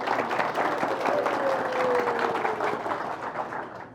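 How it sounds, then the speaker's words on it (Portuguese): Applause from an auditorium audience at a business negotiation talk, steady dense clapping throughout, fading slightly toward the end with a faint tone running beneath. "eu peço para vocês uma salva de palmas para vocês"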